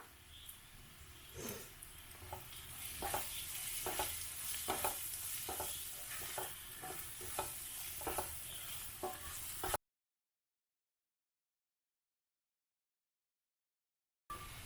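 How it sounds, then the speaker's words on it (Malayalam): Chicken being sautéed in a pan with garam masala and salt: a continuous sizzle broken by rhythmic, repeated scraping strokes of a spatula for about ten seconds, then sudden silence before the sizzle returns briefly at the end. "ഇനി നമുക്കിതൊന്ന് വഴറ്റിയെടുക്കാം."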